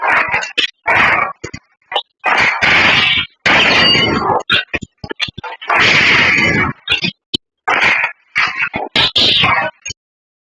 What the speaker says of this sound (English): I think I'm gonna use the burst rifle.